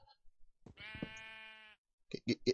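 Sheep bleating in a Minecraft-style video game, a single sustained bleat lasting under a second, with short bursts of other sounds before and after.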